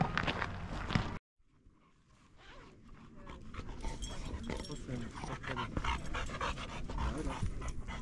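Small dog panting and padding around nearby after a cable-car ride on Monte Baldo, with quick breaths and soft footsteps over background noise; a brief sharp sound opens, then a near-silent gap.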